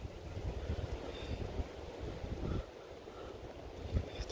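Outdoor wind buffets a microphone in a UK field during a metal detecting hunt, a steady low rumbling gust that eases slightly midway, faint and continuous with no voices.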